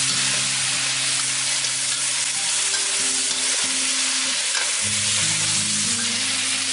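Chestnuts and chicken stir-fry in a wok for a Hakka-style dish, giving a strong, even sizzle throughout with low rumbling scrapes underneath and no voices.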